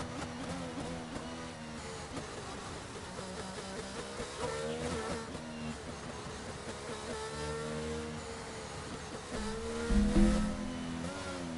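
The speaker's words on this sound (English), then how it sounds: "the car sound is a bit too high compared to my voice" A Formula 1 car engine in the racing game F1 2022 at the Brazilian Grand Prix whines continuously, its pitch climbing and dropping through gear changes, with a louder burst near the end.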